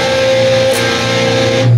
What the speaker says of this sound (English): the second time when you get to this big stretch chord, do it three times. It'll sound like this.